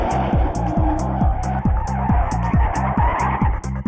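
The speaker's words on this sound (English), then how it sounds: "the noise, the screeching brakes" Joyriders' cars on Belfast streets, loud repeated tire squeal and skidding screeches in rapid rhythmic bursts over steady engine roar, close and harsh, no talk.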